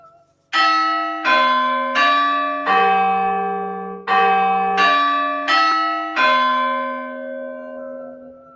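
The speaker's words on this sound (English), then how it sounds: "What are you two doing ringing the bell at this hour?" A large bell rings in eight clear, resonant strikes, each ringing on and decaying before the next, with a short pause midway through the sequence.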